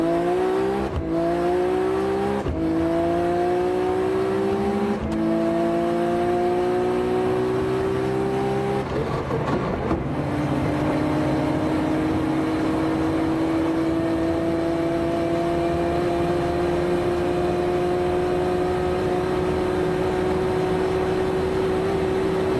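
An in-car ride during a top speed run at 184 mph, the engine's rising harmonic drone climbing through gear changes with brief shift breaks, then holding a loud, steady high-speed note alone with no talk.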